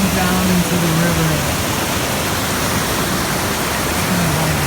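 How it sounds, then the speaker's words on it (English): A small waterfall in a little creek rushes with steady broadband noise, loud and close, with a faint tonal murmur over the wash now and then. "Waterfalls. That's a little baby creek."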